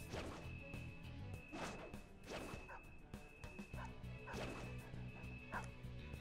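A dog barks several times in Persona 5 Royal, short yips and bow-wows set against steady game music and clattering effects, moderately loud throughout.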